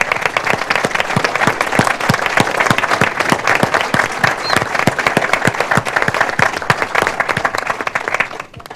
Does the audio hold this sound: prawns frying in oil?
no